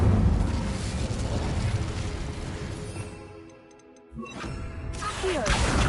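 Incendio fire spell cast in Hogwarts Legacy, a burst of roaring, crackling flame that dies away briefly before another whooshing flare, with game effects and music around it.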